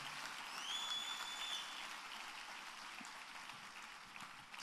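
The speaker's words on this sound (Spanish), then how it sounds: "Dale un fuerte aplauso al Señor." A church congregation claps together in a fairly soft, sustained patter, with a faint whistling tone briefly heard early on above the clapping.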